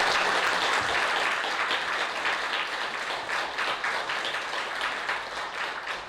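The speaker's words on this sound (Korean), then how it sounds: "우리 박수 한번 크게 보내주시면 감사합니다." A church congregation applauds steadily at a pastor couple's retirement thanksgiving service, a dense, sustained wash of many hands clapping at once, fairly loud and continuous throughout.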